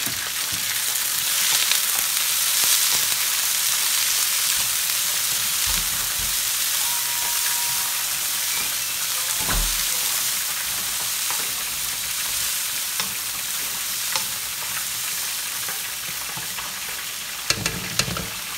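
Frozen carrots and peas fry steadily in a pan for chicken and shrimp fried rice, a continuous close sizzle with occasional stirring scrapes and no talking.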